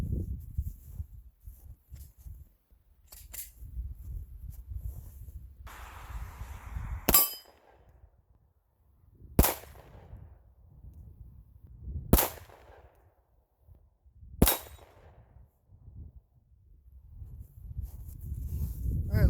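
Shots from a .40 caliber Glock pistol striking a steel spinner target at an outdoor range: four sharp, well-spaced cracks with metallic ringing over a low rumble of background noise.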